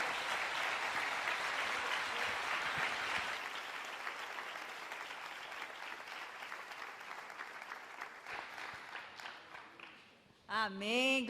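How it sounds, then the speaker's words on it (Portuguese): A church congregation claps to the Lord during a morning service, a steady wash of applause that gradually thins and fades before a voice comes in at the very end. "Você pode aplaudir ao Senhor?"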